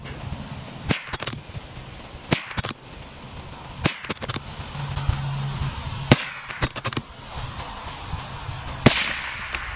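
.22LR rifle, a Lilja CZ457 or Tikka T1X, firing Remington Golden Bullet bulk ammunition, sharp cracking shots spaced a second or two apart, some in quick pairs, over a rumbling outdoor background.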